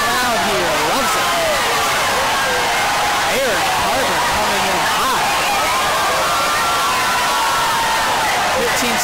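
A packed arena crowd roars and cheers continuously at an ODU versus St. Joseph's college basketball game after an ODU put-back, loud and sustained with shouting voices throughout.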